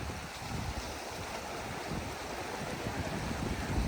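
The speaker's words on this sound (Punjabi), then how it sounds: "ਜਿਹੜਾ ਆਹ ਨਾਲਾ ਵਗ ਰਿਹਾ" Cold snowmelt mountain stream rushing through the Sonamarg valley in Kashmir: a constant, dense roar of flowing water, close and steady, with some wind noise on the microphone.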